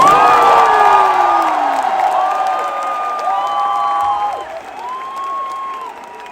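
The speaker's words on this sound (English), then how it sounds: "A huge round of applause to Jasprit Bumrah, please." A stadium crowd at Mumbai's Wankhede Stadium, celebrating a T20 cricket victory, cheers and applauds loudly with whistles and whoops, easing somewhat toward the end.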